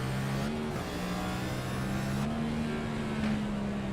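A stock-style race car in a sim racing game accelerating, its engine drone rising and holding steady through gear changes, loud and continuous with no talk.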